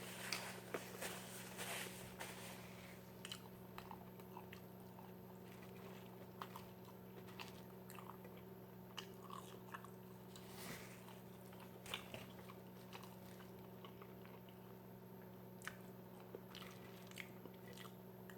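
Someone bites and chews a Burger King Double Whopper with crunchy lettuce, close to the mic, making repeated soft crunching and squishing chews over a steady low hum, with no talking.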